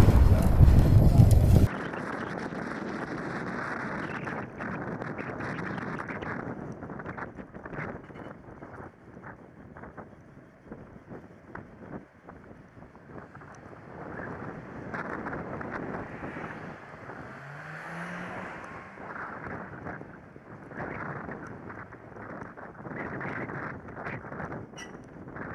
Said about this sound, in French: Ah, avec du vent de face, c'est sérieux.